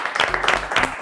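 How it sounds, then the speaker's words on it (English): A studio audience of young schoolchildren on an educational TV show claps in a brief, scattered burst, with a voice briefly heard among the claps. "Let's clap for them again."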